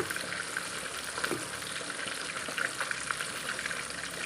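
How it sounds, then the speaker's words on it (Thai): Red curry paste sizzles and fries steadily in oil-rich coconut milk in a pan for a Thai catfish curry with yo leaves, a continuous close crackle with no talk. "เหมือนเป็นการคั่วกับกะทิ"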